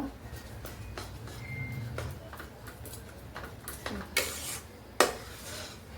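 Besan and rava roasting in ghee for laddoos, stirred with a metal spoon that ticks and scrapes against the pan in quick irregular strokes, with a couple of louder clanks near the end, close and quiet.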